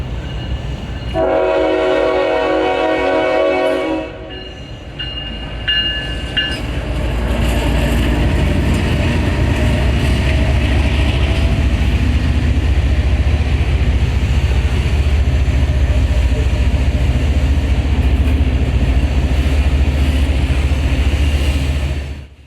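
A freight train rolls past 9th Avenue West in Bradenton, Florida, near an orange juice plant, its horn sounding loud and close in a few long blasts at the start before the steady, heavy rumble of the passing cars takes over.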